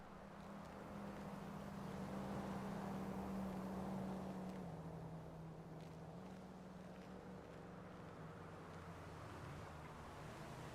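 Road traffic rumbles as a steady, faint wash of engine and tire noise, with a low droning hum that shifts in pitch partway through and no voices over it.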